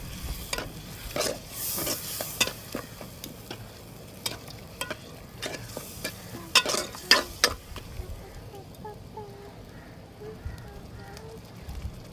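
Fish curry masala with chillies being stirred and fried in a pan, with repeated scraping stir strokes over a steady close sizzle that fades toward the end.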